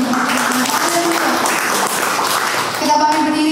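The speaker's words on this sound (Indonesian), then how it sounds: "Kasih tepuk tangan dulu buat Tuhan." Church congregation at a Sunday worship service claps together in a short burst, moderately loud, with voices and some tonal sound mixed underneath.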